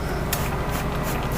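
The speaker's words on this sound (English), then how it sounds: "I'm going to be spraying some water on each clump of hair" A spray bottle mists in short bursts, with one sharp hiss standing out among steady close, soft spritzing.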